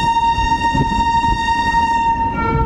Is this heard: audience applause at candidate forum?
no